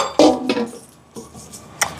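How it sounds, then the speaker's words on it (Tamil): A metal lid clanks onto a pot of brinjal potato curry set to boil, followed by a few lighter clinks and rattles as it settles, close and sharp in a quiet kitchen. "மூடி விடுவோம் உள்ள கொதிக்கட்டும்"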